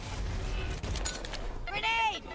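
Explosive grenade blast and gunfire in a Valorant esports match, Team Heretics versus FUT Esports, heard as dense crackling gunfire under a loud caster's voice, with a ringing tonal burst near the end.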